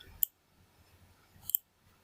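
Two crisp mouse clicks about a second apart, the second a quick double tap, close and clear against near silence.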